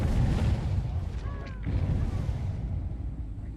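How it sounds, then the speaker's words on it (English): Fireworks burst in the Dead by Daylight video game, a run of loud booming blasts and crackle over a dense rumbling background, with a brief whistling rise in the middle. "Fireworks, huh?"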